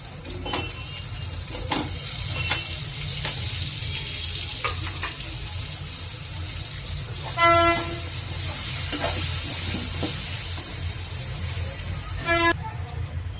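Drumstick pieces sizzle in a hot pan for a Telugu egg-and-drumstick curry, a steady hiss of frying with light stirring, while two brief car-horn toots sound in the background.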